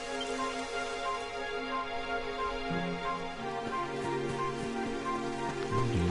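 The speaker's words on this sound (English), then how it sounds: "It would have to go and start raining, wouldn't it?" Rain falls during an outdoor climb in Dragon Quest XI on PS4, a steady patter of raindrops on surfaces that goes on under game music with sustained tones, with no talk.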